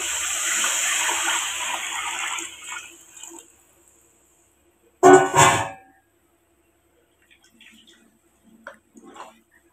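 Water pours steadily into a cooking pot for a couple of seconds then tapers off, followed by a brief clatter and a few faint knocks in otherwise quiet surroundings.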